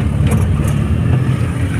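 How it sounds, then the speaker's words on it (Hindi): A Maruti Alto 800 with a leaking silencer runs with a loud, steady, throaty engine rumble, heavy and raspy in a close, continuous drone with faint higher rattles. "अभी आपको स्पोर्ट्स कार जैसी आवाज़ आ रही होगी"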